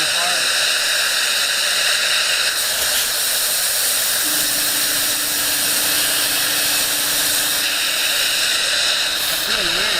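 Air rushes hard into a two-stage Tesla turbine with a loud, steady, broadband hiss that stays nearly constant throughout, with a faint tone rising underneath midway.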